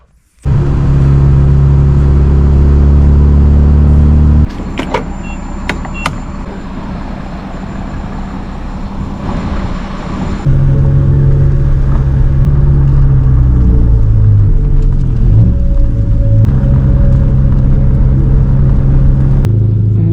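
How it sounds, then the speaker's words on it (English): A car engine starts and idles with a loud, steady low rumble, then revs up and keeps droning close by, with no talking. "This car is going to be loud"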